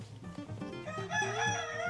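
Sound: parrot vocalizing in a parrot aviary

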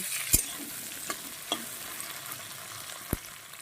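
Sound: frying tomatoes and spices for dal tempering

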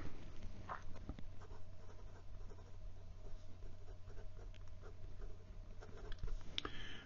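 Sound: Platinum President fountain pen writing in reverse on paper

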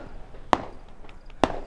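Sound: pistol gunshot

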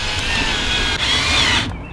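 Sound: drilling 1/16 inch holes in pipe

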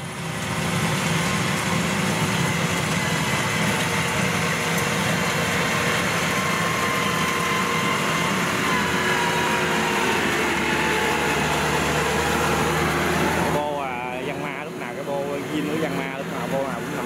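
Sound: brush cutter engine running

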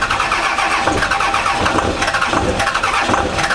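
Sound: Cummins diesel truck engine starting up cold

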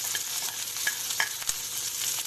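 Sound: soya chunks frying in a pan

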